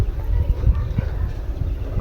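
Wind gusts outdoors at a field where ginger is being planted. The wind buffets the microphone as a low, uneven rumble that stays steady throughout.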